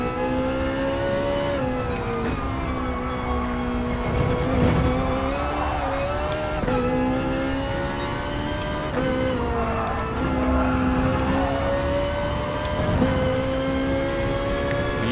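A racing car engine in GT Sport howls loudly and steadily, its pitch rising through gears with repeated upshifts and brief dips, engine sound alone without speech.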